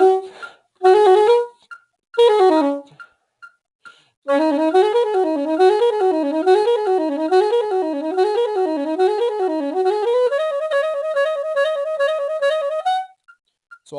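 Solo instrumental practice of a variation from Variations on a Korean Folk Song at a steady tempo: short detached notes, then a long run of rapid alternating notes in a zigzag pattern, ending on sustained tones; clear and close, no talking.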